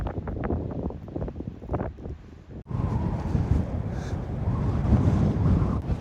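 Strong gusting wind buffets the microphone on the Madeira coast, a loud, rough roar that rises into a steady heavy blast with no one speaking.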